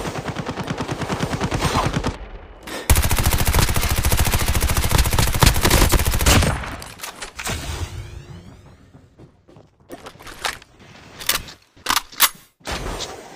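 Rapid automatic gunfire from the player's gun in Call of Duty Mobile comes in two loud sustained bursts, the second longer and denser, followed by scattered single shots and clicks with no talking.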